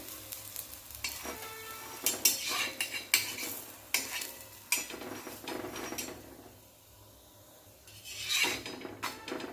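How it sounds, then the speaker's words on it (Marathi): Fenugreek thalipeeth roasting in oil on a pan, with a steady close sizzle broken by sharp scrapes and clinks of a spatula or spoon against the pan, fading briefly before another stirring burst. "तेल लावून आता खरपूस असं भाजून घेऊया आपण याला"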